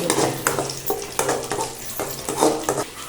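Cashews and raisins sizzle in hot ghee while a spoon stirs the pan, with steady frying hiss broken by repeated scraping strokes close up and no talking.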